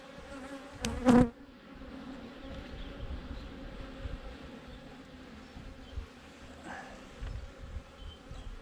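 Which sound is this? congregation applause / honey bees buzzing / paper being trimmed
honey bees buzzing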